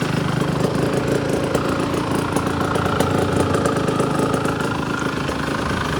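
A cold-started KTM 125 motorcycle engine idles steadily and loudly up close, a continuous rough mechanical drone with no talk over it.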